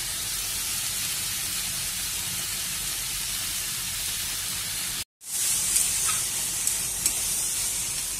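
Tomatoes and salt sizzle loudly in a frying pan with a steady, dense hiss, broken once by a brief silent gap before the sizzle resumes.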